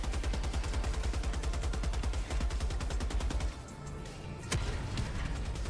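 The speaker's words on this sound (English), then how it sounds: "That's 2 shots." Rapid, evenly spaced video game gunshots crack in a steady automatic burst, briefly thin out, then end with one sharper, heavier shot before the firing resumes.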